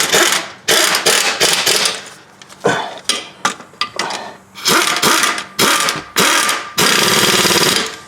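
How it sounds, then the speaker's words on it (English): A power tool gun, turned down, drives bolts on a 2006 Chrysler Town and Country during water pump inlet tube work: loud, repeated rattling bursts of impacting, each lasting under a second, separated by brief pauses. "I'm going to run these in with a gun, but I have the gun turned down"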